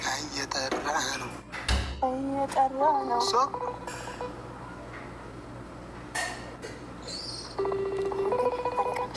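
A phone call rings out through a handset in a series of repeated electronic ring tones and beeps, set against low background hum, with people talking intermittently.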